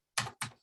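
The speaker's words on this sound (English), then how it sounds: "I'm just typing her email" Two quick, crisp keystrokes on a computer keyboard sound close and alone against silence.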